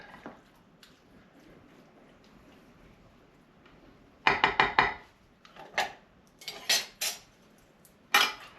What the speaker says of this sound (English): So we'll add that to our mixture. We'll stir that up good.